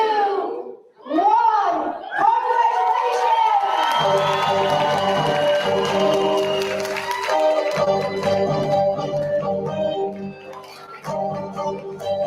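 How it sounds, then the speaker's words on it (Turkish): Crowd cheering and shouting at a university communication faculty graduation ceremony, opening with rising whoops and then swelling into sustained cheers and applause over loud music. "Alkışlarımız susmasın"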